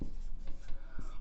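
Brief writing on a board during a chemistry lesson on chloroform reactions, a few quick soft scratchy strokes close by.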